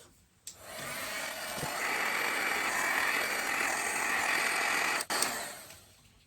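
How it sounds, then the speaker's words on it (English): A heat tool blows a steady, breathy whoosh for several seconds to melt embossing powder on a handmade card, switching on and off abruptly with a click at each end. "we will give this a little heat set with the heat tool"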